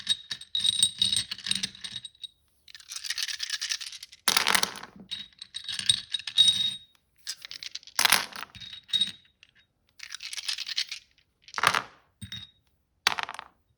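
Astrology dice rolled and tumbling onto a surface during a tarot-style card reading, a series of quick rattling clatters and sharp taps in bursts, close and fairly clear with short pauses between throws.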